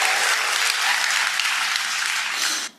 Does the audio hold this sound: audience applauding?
yes